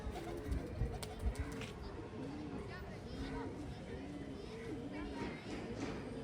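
Paired pigeons in new nest boxes at a village pigeon loft coo softly and repeatedly. The low warbling coos run steadily and faintly beneath distant voices and children's chatter.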